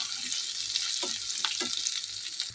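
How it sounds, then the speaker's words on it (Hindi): Chopped onion frying in a pan until lightly golden, a soft steady hiss with a few brief crackles and stirring touches, fairly quiet and without talk. "फिर इसमें डालेंगे कटा हुआ प्याज अपना। इसे हम हल्का सा गोल्डन करेंगे।"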